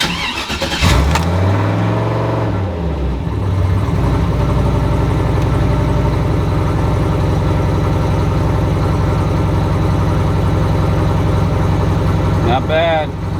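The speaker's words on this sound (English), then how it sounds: "Alright, here we go, cold start." A turbocharged, cammed Chevrolet Silverado 4.8 V8 cranks and catches on a cold start, then settles into a loud, steady, lumpy idle that runs close and unbroken to the end, with a voice heard briefly.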